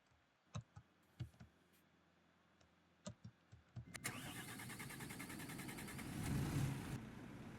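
In the OMSI 2 bus simulator, a supercharged Volvo B7RLE bus engine is started. A few faint clicks and knocks come first, then the engine catches and settles into a steady idle rumble that swells slightly near the end.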